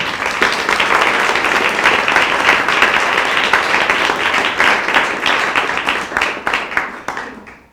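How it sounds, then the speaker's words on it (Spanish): Sustained audience applause for the author, economist María del Pilar Novoa Salvador, at a book launch. Steady dense clapping fills the room for several seconds, then thins and fades toward the end. "También un aplauso para ella, por favor."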